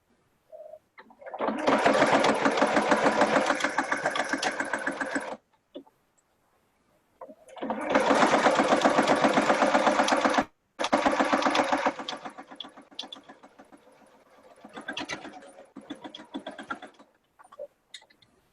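A sewing machine runs in two long, loud bursts as it stitches a recessed zipper top closure, the needle whirring steadily, then stopping briefly before a shorter back stitch and softer, uneven stitching at the end.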